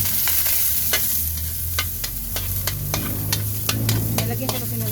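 Ginger sautéing in a little oil gives a steady close sizzle, broken by sharp clicks and scrapes of a utensil stirring in the pan.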